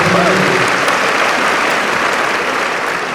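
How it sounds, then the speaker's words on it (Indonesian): Loud, dense applause from a large audience of university leaders and graduates at a transport school ceremony, continuous clapping throughout with no break. "tepuk tangan dulu nih"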